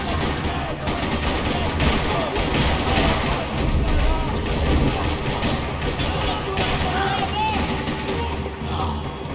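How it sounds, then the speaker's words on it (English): Gunfire in a parking lot in the video game Max Payne 3, dense rattling bursts of shots and heavier blasts in continuous rapid volleys, loud and close, with game voices mixed in. "Another parking lot rattling with gunfire."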